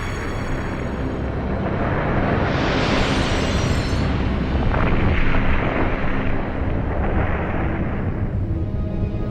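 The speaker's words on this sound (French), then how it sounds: "Une explosion de 100 millions de mégatonnes pulvérise New York." A huge asteroid impact explosion destroying New York roars as a loud, continuous rumbling blast, swelling to a hissing peak midway and then settling into a sustained, wind-like roar.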